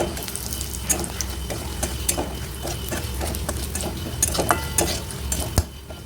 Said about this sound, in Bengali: এবার এর মধ্যে দিয়ে দিচ্ছি গোটা জিরে আর একটা